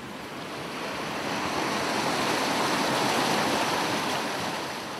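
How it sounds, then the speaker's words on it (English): Water gushes from a lake through an opened sluice gate into an outflow and on to a nearby stream in Brittany, a steady broadband rushing that swells slightly and holds at a constant level, with no voices. "The water runs off into a nearby stream."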